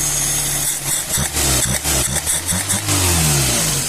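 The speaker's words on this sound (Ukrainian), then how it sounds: "Зараз гріємо, перевіряємо холостий і все буде прекрасно." A Volkswagen Jetta 1.6 engine on a Solex 21051 carburetor warms up. It runs loud and close, with repeated revs that rise and fall, then settles toward a steadier, rougher idle.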